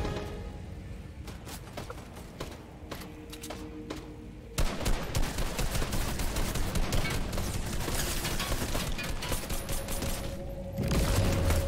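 Fortnite gunfire, a dense run of rapid shots that grows louder and heavier midway and carries on steadily to the end, with no talking.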